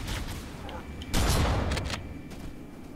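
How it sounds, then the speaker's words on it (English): Turret gunfire in Halo, a quiet series of sharp shots with one louder burst in the middle and a few fainter bursts after it, heard at some distance. "Those stupid annoying things are getting shot by a turret."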